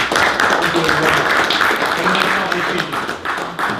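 Steady applause from a room full of people at a city council meeting, dense clapping that stays even throughout, with voices mixed in underneath.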